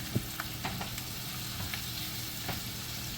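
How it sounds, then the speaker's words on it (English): Mushrooms and onions frying in butter and olive oil, a steady close sizzle with occasional soft stirring taps and scrapes, no talking. "So we got butter, olive oil, mushrooms, and onions in there right now, right?"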